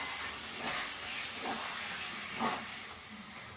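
Ground nut, milk and yogurt paste poured into a pan of fried chicken sets off a steady steamy hiss with a few soft bubbling pulses. Close and fairly quiet, with no talking.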